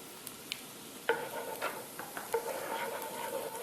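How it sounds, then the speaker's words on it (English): Garlic and spices sweating in a pan for Chilean empanada filling, a soft steady sizzle with scattered clicks and a few stirring scrapes, close and moderately quiet, no talk. "We just lightly sweat the garlic and we add the spices"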